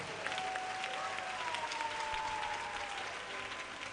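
An audience at a talk on manifesting one's lionic nature breaks into steady, continuous applause, a dense even wash of many hands clapping at moderate distance.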